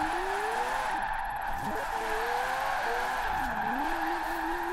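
A Mazda in Forza Horizon 4 point-drifts with all-wheel drive, its engine note rising and falling under a continuous tyre squeal and skid, loud and close with no talking.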